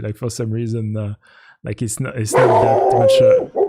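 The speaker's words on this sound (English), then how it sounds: "Sorry about the dog." A dog barks several times close by, its sharp yelps and howls overlapping a man's speech during a finance discussion.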